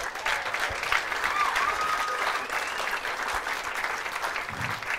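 A comedy club crowd at an Improv show applauds a stand-up comic, giving dense, sustained clapping that stays fairly even throughout with a few scattered cheers, heard a little distant.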